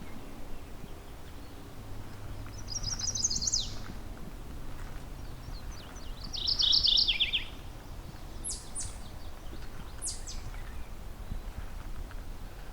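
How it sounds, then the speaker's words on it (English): Two bright, rolling mourning warbler songs arrive a few seconds apart, followed by thin high chips, all over a low steady outdoor hum in Halton Forest. "Mourning warbler."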